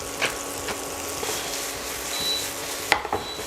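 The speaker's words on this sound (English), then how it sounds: "you can put in one fry pan a little piece of garlic without crush, just like this, to flavor a little bit" An uncrushed whole garlic clove fries in a pan with a steady sizzle and crackle, with a few light clicks and taps of utensils against the pan and no talk.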